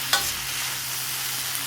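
Ridge gourd chutney ingredients sautéing in a pan give a steady, even sizzle with a brief scrape of stirring near the start, close and moderately loud, with no talk.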